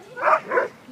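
A police dog gives two quick, close yelping barks, loud and sharp, during a struggle with a suspect.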